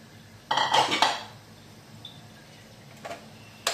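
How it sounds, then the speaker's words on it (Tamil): A metal cooking pot is set back down on a stove with a sharp clatter and brief ringing clanks, followed by a few faint knocks, in a home kitchen while making sugar syrup. "இப்போ திருப்பி அதே சட்டியை அடுப்பில் வச்சு இந்த சர்க்கரை பாகை ஊற்றி நல்லா பாவு மாதிரி காய்ச்சுவோம்"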